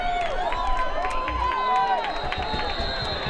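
Football fans at a game between Mingus and Cactus Shadows clap in the stands amid crowd noise, with sharp claps mixed into a bright, busy hubbub.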